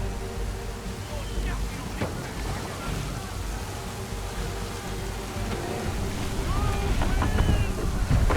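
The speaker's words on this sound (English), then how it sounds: "Heavy gust, Captain." Heavy wind gusts at sea in the Assassin's Creed 3 video game, with waves washing and the creak of a sailing ship, build steadily louder toward the end. Scattered game sounds sit in the mix.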